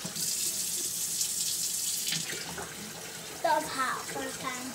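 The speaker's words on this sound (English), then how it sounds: "Yep, add cold water." Cold water runs steadily from a kitchen tap while Kool-Aid is being made, a continuous splashing hiss with a child and an adult talking over it in the second half.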